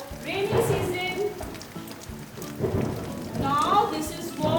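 Rain falls steadily through a rainy-season downpour, with a constant patter and low rumbling swells, while voices talk over it.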